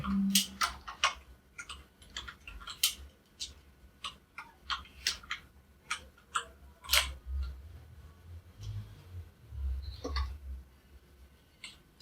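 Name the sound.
typing on a computer keyboard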